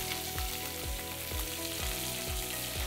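Short ribs searing slowly in a pot with carrots, whole garlic cloves, salt and pepper, giving a steady close sizzle with a recurring low rhythmic thump and hum beneath it, no voices.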